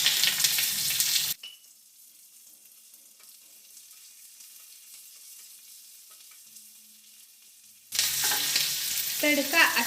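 Loud sizzling of mustard seeds, cumin, green chillies and curry leaves hitting hot oil for koshimbir tempering, then a long quiet stretch, then sizzling bursts back strongly near the end.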